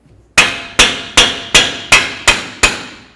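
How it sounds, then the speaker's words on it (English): Hammer striking a nut onto the front axle of a 2008-12 Chevy Malibu during a strut replacement, seven sharp metallic blows in even rhythm with ringing decay, close and loud, no talking. "give it a couple loving bonks this way"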